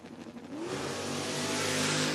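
A 1971 Dodge Dart drag race car launches at a drag strip, its engine building from a brief rumble into a loud, rising, sustained roar that swells steadily to full power.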